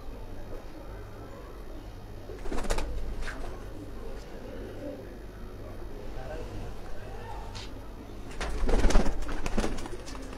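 Soft cooing of hobby pigeons on a rooftop rises from a busy background with scattered rustles and louder clattering bursts, close by.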